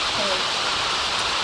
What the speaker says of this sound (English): go play in the rain